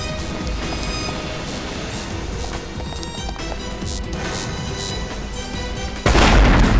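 A bomb blows up a house with a sudden loud, deep blast near the end, following tense music and hurried movement.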